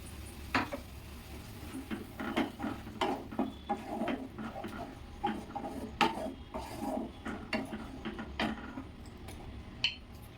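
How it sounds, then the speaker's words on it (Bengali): A spatula scrapes and stirs mixed vegetable curry masala in a pan as it is sautéed with spice paste and water from rinsing the grinder. The scraping strokes come in a steady, rasping rhythm, close and moderately loud, with no talking. "এবার এটাকে ভালো করে কষিয়ে নেব"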